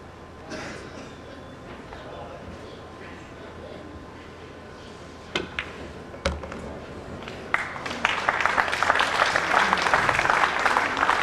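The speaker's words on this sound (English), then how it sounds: "Almost grudging applause there" Snooker fans at a 2006 match between Efren Reyes and Radoslaw Babica break into applause that builds into sustained clapping after a quiet murmuring room and a couple of sharp knocks.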